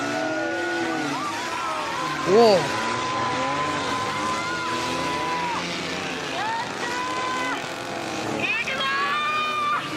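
A K car driving in the racing game 18 Wheeler American Pro Trucker: a steady engine drone with rising and falling revs and a brief tire-squeal burst, close, while a voice briefly exclaims.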